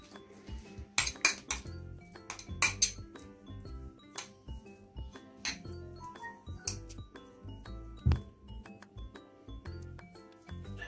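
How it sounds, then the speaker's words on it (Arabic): A utensil mixes a savoury filling for Moroccan salted chebakia in a bowl, giving repeated clinks and scrapes against dishware in irregular bursts, close and fairly clear, with no talk. "غادي نخلطو مزيان"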